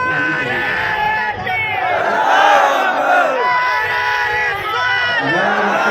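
A large crowd at an Eid Milad-un-Nabi religious gathering in Pune, Maharashtra, chants slogans in unison. Loud overlapping voices swell and fall in sustained waves with no quiet gaps.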